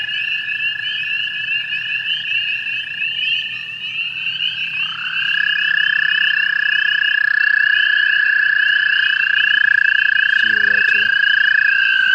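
Several American toads trilling at night by a pool, long steady high-pitched trills that overlap and swell louder partway through, close and continuous with a faint low thump near the end.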